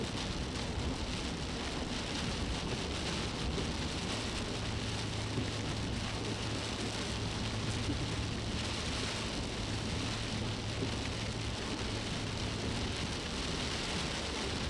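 Afternoon summer rainstorm on a road south to Craig, Colorado, a steady wash of rain falling on surfaces with a faint low rumble, constant and even throughout with no voices.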